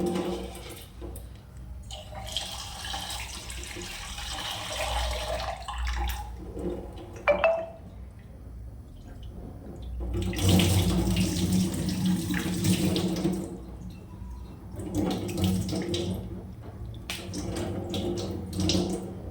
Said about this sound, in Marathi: पोहे भिजवून घेतो मस्तपैकी